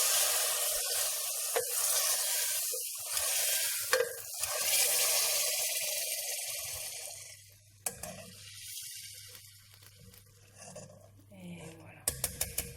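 Hot spiced oil hits a pot of cooked lentils for Indian dhal and sizzles loudly at first, then settles into a quieter crackle with stirring and scraping, ending in a few clattering knocks.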